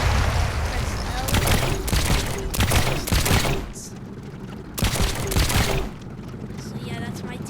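A player-built tank in Trailmakers fires a loud, dense run of rapid blasts, two long bursts broken by a short pause, sitting over a constant engine-like rumble in the game.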